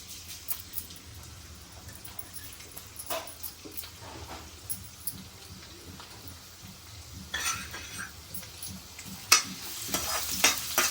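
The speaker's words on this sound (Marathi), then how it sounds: "तेल गरम झालेलं आहे आपण लसूणची फोडणी करूया" Garlic tempering in hot oil in a heated kadai for crab curry: a soft, continuous sizzle with occasional stirring scrapes, growing louder and crackling more sharply toward the end.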